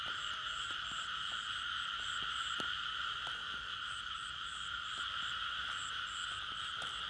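Small frogs croaking during a night frog hunt, a dense, steady chorus of overlapping calls with repeated rhythmic chirps above it, no talking.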